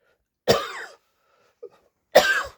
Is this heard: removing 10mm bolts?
no